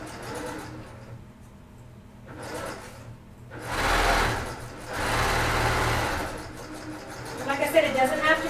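A sewing machine runs in short bursts, stitching across paper-backed fabric for a jelly roll coffee cozy, its whirring motor rising and stopping with pauses between, close and fairly loud.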